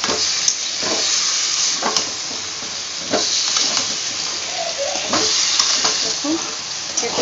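Spices stirred and mixed as they fry in a pan for a janhi masala recipe, a steady close sizzle and hiss with scraping stir strokes throughout, no talking.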